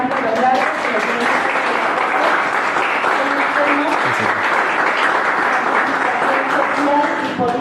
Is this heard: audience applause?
yes